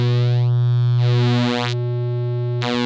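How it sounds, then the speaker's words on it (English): Raw oscillator of a Solar 42F synthesizer: a buzzy, harmonically rich sustained tone with filter sweeps opening and closing the bright upper partials in a few swells, loud and alone. "You want to hear a raw oscillator,"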